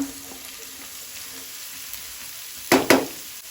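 Shredded cabbage tipped into hot oil with chana dal for a Goan-style bhaji, erupting in two sharp bursts of loud sizzling after a quiet stretch of low background hum.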